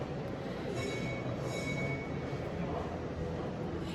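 A train rolls past as a steady, continuous broadband rumble with faint wheel squeal above it, holding an even, fairly close level throughout with no voices.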